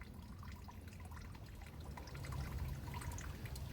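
Coolant drains out of a 2012 Dodge Journey in a faint, steady trickle and pour, growing a little louder partway through, with low background rumble.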